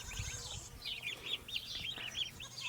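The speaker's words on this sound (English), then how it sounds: "here's our little turkeys" Young turkeys chirp and peep in a rapid, steady string of high calls, close by and fairly quiet, with no talking.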